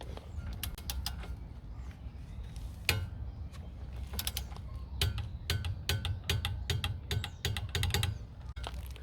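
Wrench tightening the lower nut on a Fiat Palio tie rod end during steering repair: a steady series of sharp metallic clicks and ratcheting ticks, close and moderately loud, with no talking.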